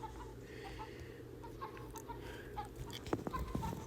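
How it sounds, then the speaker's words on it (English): Chickens on a chicken farm cluck in short, scattered bursts over a steady low background hum, several birds calling close by at a soft level, with a couple of sharper calls near the end. "Go on, chickens, go."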